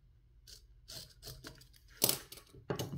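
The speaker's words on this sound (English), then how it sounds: "so I'm going to cut this edge off." Scissors snip off an edge of fabric during slow hand stitching, several short close cuts and rustles at a quiet level, with no talking.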